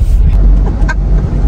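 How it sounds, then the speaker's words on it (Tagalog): Road traffic on the way to the airport, a loud, close, low rumble of cars and engines heard from inside a vehicle, with brief higher tones mixed in. "Grabe ang traffic papuntang airport."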